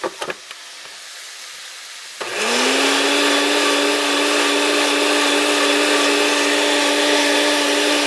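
Blender whirring steadily as it purées a smooth, creamy sauce base, starting abruptly after a few faint kitchen clicks and running loud and continuous at an even pitch until the end, with no voices.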